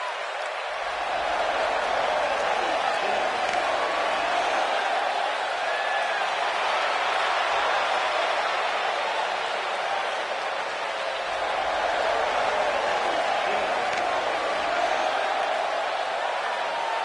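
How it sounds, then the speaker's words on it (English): Video game wrestling crowd in WWE 2K19 keeps up a steady, loud roar of cheering and applause for the whole stretch, a dense wall of arena noise with no break. "And Michael, it sounds to me like this crowd already picked the one who they want to win this match."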